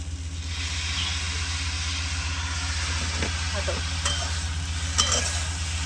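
Okra with lemon juice is stirred in a pan over a wood-fired stove, a steady close sizzle and hiss under a low rumbling hum, with occasional scrapes and taps of the spoon.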